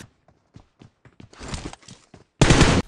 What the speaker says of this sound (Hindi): नॉक वाले एनिमी पे दो तीन गोली चलाई